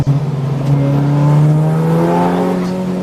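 A safety car accelerates along the track at Snetterton during a club endurance race, its engine droning loud and close with a steadily rising pitch for about three seconds.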